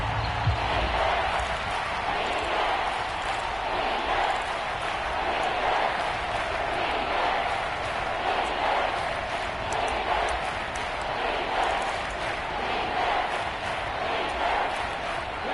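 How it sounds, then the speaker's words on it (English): A stadium crowd in a PS4 football video game shouts and murmurs in a steady, loud wash of noise without letup. "Plenty of shouts from this crowd as they watch the replay."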